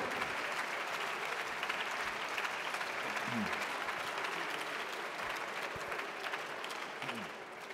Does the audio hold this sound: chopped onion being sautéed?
no